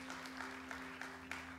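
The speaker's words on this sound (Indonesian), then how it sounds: "Berikan tepuk tangan buat Tuhan Yesus" Faint, sparse clapping from a church congregation applauding during a sermon, a few soft claps spaced out over a steady low hum.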